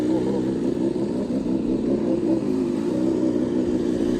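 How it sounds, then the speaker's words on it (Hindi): A BMW S1000 RR sport motorcycle idles close by, its engine giving a loud, steady, throbbing rumble with slight fluctuations throughout. "अब बाइक चालू है, ये चालू है"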